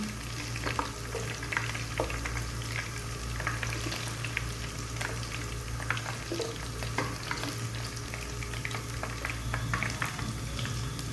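Garlic and ginger sizzle and crackle steadily in hot oil in a pot, with occasional stirring scrapes and no talking.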